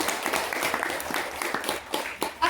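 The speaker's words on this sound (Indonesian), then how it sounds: "tepuk tangan buat Remigiana." Brief applause from students in a classroom lesson, a short burst of scattered hand claps from a small group, moderately close and uneven.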